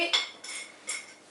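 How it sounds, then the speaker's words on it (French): Whole nutmeg grated over a finished béchamel sauce seasoned with salt and pepper, giving a few short, light metallic scraping strokes, close and fairly quiet, with no talk. "vous râpez un petit peu de noix de muscade"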